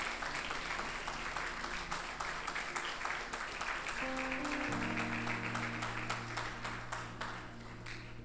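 Congregation applauding in a church after prayer, a steady wash of clapping sustained throughout, with organ or keyboard chords sounding beneath.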